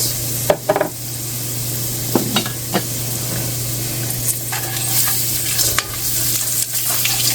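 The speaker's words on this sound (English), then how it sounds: "I'm gonna stir it around in the oil." Curry powder frying in oil in a pot for Jamaican curry goat, a steady close sizzle punctuated by several distinct spoon knocks and scrapes against the pot as it is stirred.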